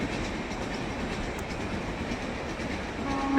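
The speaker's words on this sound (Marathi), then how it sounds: "ट्रेनचा आवाज ऐकायला येतोय." A train runs past close by beside a rural settlement near Vangani, giving a steady, loud rumble and rattle of rolling wagons that lasts throughout with no voices.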